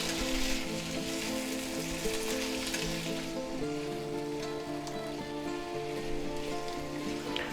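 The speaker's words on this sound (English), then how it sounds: "at this point I like to add a little bit of rice wine." Shrimp and peppers sizzle steadily in a stir-fry pan after a splash of rice wine, with a constant frying hiss that holds level throughout and no talking.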